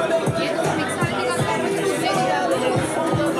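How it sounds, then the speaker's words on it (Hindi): Dense crowd chatter at a Diwali fair in Australia, many overlapping voices forming a constant close hubbub with no single speaker standing out. "भीड़ बहुत है यहाँ"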